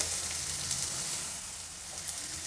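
Onions sizzle as they fry in a pan for pea paratha, a continuous moderate crackle that stays fairly even throughout, with no talking.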